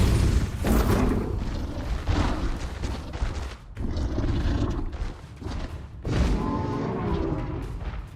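Bombarda spells explode in Hogwarts Legacy, a series of heavy booming blasts spaced a couple of seconds apart, each with a rumbling decay, loud and close with little talk.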